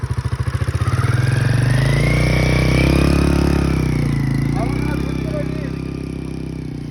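A motorcycle engine starts up and runs in second gear, close and loud, with a chugging clatter at first settling into a steady running drone, with voices talking over it.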